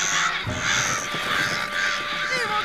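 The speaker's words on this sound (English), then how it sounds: "crows were summoned by a curse made by Ed's scam, which caused them to attack the Eds." Crows in the Ed, Edd n Eddy cartoon caw loudly in several harsh overlapping calls that repeat across the whole moment, close and prominent.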